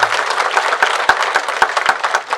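Audience applause at an event honouring Dr. Gobind Rai Garg, Dr. Ravi Sharma and Dr. Zainab Vora: steady clapping from a crowd, dense and even across the whole stretch, with a few sharper individual claps standing out.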